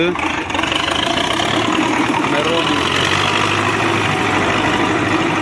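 A tractor engine idles steadily and loudly nearby, a continuous low rumble under someone speaking.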